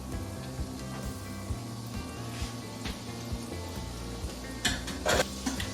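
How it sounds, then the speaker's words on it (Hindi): Yeast doughnuts frying in oil heated on a medium flame, a soft steady sizzle and bubbling with a few sharper crackles near the end, under music. "तो ऑयल को हमने मीडियम फ्लेम पे गरम कर लेना है और उसमें डोनट एहतियात से डाल देंगे।"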